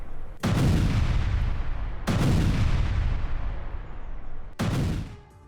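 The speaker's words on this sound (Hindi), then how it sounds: "दमिश्क में आईडीएफ ने हवाई हमले किए हैं।" Israeli airstrikes hit Damascus, Syria: three heavy, loud booms land a couple of seconds apart, each dropping into a long rumbling decay before the next blast.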